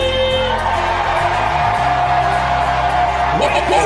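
A radio show crowd screams and cheers over a continuous music bed, with a steady loud roar of whoops and shouts running the whole time.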